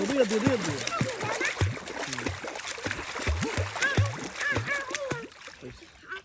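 Water splashing irregularly as a man learns to swim, heard up close under frequent talking and exclamations from people nearby.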